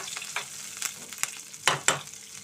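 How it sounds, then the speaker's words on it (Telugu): Green chillies sizzle in hot oil for a gongura chutney, a soft steady crackle broken by a few sharper pops and spatters, close by with no talking. "పచ్చిమిర్చితోటి నూనెలో వేయించుకొని మిరపకాయలు ఇవన్నీ కూడా"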